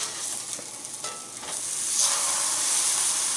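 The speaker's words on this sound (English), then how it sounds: "Frying pan's nice and hot, let's get that grilled cheese on." Grilled cheese sandwich sizzling in a hot frying pan, a steady hiss of frying that swells louder partway through, close and with no voices.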